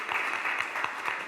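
An audience at an architecture lecture gives a short burst of applause for a speaker, a dense patter of clapping heard fairly close.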